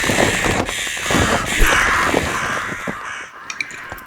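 Crows caw repeatedly in the dark fantasy game Dark and Darker, several harsh calls overlapping against a rumbling game backdrop, with a few sharp clicks near the end.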